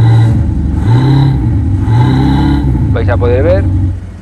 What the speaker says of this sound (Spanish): Sería un Corvette, lo aceleramos un poco.